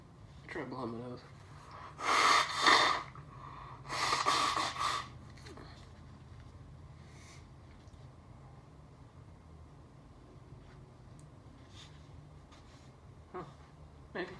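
A sneezing fit: two loud bursts of forceful sneezing or snorting close to the microphone, followed by quieter breathing and a faint final sniff against a low background hum.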